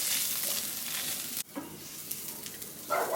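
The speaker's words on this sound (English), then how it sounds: "Give it a good stir." Dolmades filling with tomato paste is stirred in a hot pot, a continuous sizzling, scraping stir that briefly cuts out, then resumes with louder frying toward the end.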